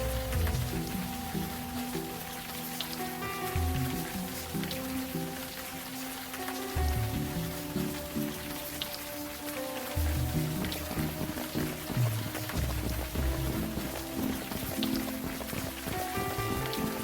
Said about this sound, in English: we will learn nothing standing here in the rain.